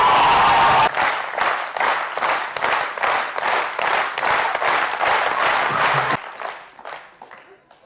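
An audience at a business seminar in Surat breaks into loud, rhythmic clapping in unison, sharp regular beats that cut off abruptly and trail into scattered, fading claps.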